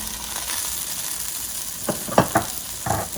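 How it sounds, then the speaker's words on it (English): Broccoli hits hot olive oil in a cast iron Dutch oven, a soft steady sizzle with a few sharp clacks and scrapes as pieces drop and are stirred. "in my cast iron Dutch oven, I have 2 teaspoons of olive oil heated, and then I'm going to just put in my broccoli"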